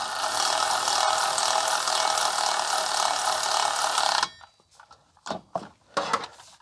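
A hand ratchet clicks rapidly and continuously, close and loud, while undoing clutch bolts on a BMW 116i's self-adjusting clutch, then stops and gives way to a few short metallic taps and clunks.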